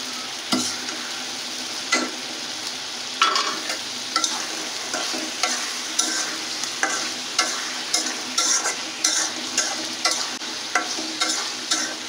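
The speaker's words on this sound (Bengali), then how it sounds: "কিছুক্ষণ যাবত কষিয়ে নেবেন।" Fried hornfish sautéing in a spiced Bengali curry, with steady sizzling and rhythmic spatula strokes scraping the pan at regular intervals, close and without any talking.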